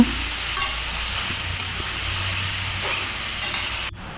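Sliced potatoes and sponge gourd sizzle and fry in a pan while being stirred, a steady loud hiss with faint scraping that cuts off abruptly near the end.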